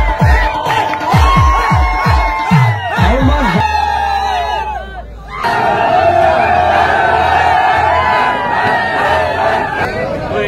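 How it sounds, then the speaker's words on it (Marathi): A crowd celebrating victory at a bullock cart race (shankarpat) in Vidarbha, with loud shouting and cheering, sharp whoops and whistles, a brief lull, then renewed babble and cheers close by. "त्यांचा हा सर्व विजयाचा जल्लोष आहे"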